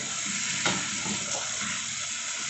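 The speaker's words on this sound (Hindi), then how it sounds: "एक मरतबा अच्छे से मिक्स कर दें मसाले को ऊपर नीचे, क्योंकि अभी इस स्टेज पे गोभी टूटेगी नहीं" Aloo gobi frying in a pan as spices are stirred into the potatoes and cauliflower: a steady oily sizzle with a soft scrape of the spoon, close and even, with no talking.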